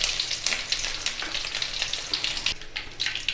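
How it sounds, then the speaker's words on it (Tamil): Mustard seeds and curry leaves crackle and sizzle in hot oil while cooking rasam, a busy, continuous frying hiss dotted with sharp pops, close up and without talk. "இப்போ கடுகு பொரிக்க ஆரம்பிச்சிச்சுன்னா கருவேப்பிலை போட்டுக்கலாங்க."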